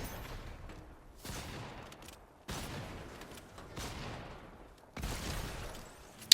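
Gunfire from the Lawless stink rifle in the Fortnite video game: a few heavy, reverberant shots fired with pauses between, each trailing off in a decaying echo, fairly quiet overall.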